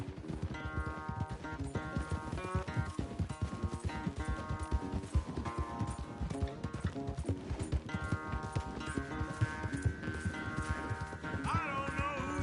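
Horses galloping hard in a race in Red Dead Redemption 2, with rapid, steady hoofbeats pounding close under a continuous musical score.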